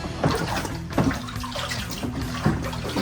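Running water pours steadily over a metal part as soap is rinsed off after rust removal, a continuous close splashing wash with a few brief louder gushes.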